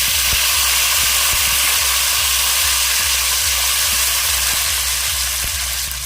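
Chopped tomato hits hot ginger paste in a wok and fries with a loud, continuous hissing sizzle that stays steady throughout, close up, with no talking.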